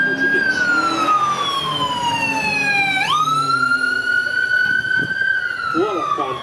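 A retired Boston Police car's siren wails loudly at a supercar weekend event, its tone sliding down, jumping sharply back up and holding, close and dominant, with voices faintly beneath.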